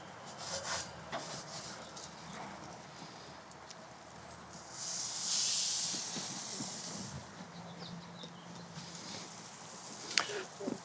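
Oiled salmon sizzles on an outdoor grill, a steady close hiss and crackle with a louder surge of searing in the middle and a sharp pop near the end.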